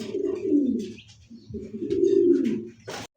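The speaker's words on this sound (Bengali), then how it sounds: "দর্শক এই মুহূর্তে দেখতে পাচ্ছেন ম্যাকপাই কবুতর" Magpie pigeons coo in two long, low, throaty phrases separated by a short pause, close and fairly loud, ending with a brief sharp rustle.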